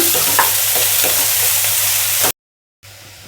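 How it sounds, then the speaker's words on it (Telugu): Chopped onions and green chillies sizzle in hot oil in a pan, a loud continuous frying hiss with light stirring, cutting out abruptly near the end and returning softer. "ఆయిల్లో ఉల్లిపాయలు ఎర్రగా అయ్యేదాకా వేయించుకున్నాను"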